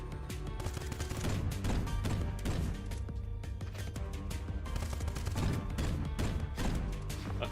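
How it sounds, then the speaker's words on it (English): A rapid-fire cannon shoots in the video game Cinderia, a dense stream of loud, sharp blasts repeating steadily for several seconds over a low rumbling game backdrop. "Rapid fire cannon."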